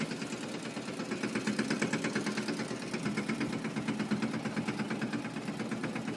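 A farm tractor's engine runs steadily throughout, a continuous mid-pitched rumble with a fast knocking pulse, fairly close and with no talking over it.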